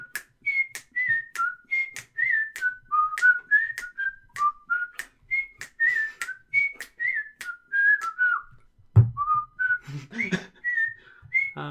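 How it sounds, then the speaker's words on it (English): A person whistles a bouncy tune in short, clear, repeated notes, close and alone, with a brief low thump partway through. "Whistling song."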